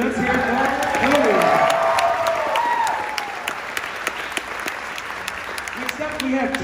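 Audience applauds a graduating high school band senior at a band seniors event, a crowd of steady clapping with scattered cheers and an announcer's voice sounding over the start.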